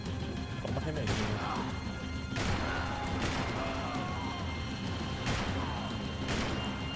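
Gunfire in the video game Max Payne 3, several sharp broadband shots at uneven intervals over a dense layer of game action and music, with voices speaking throughout.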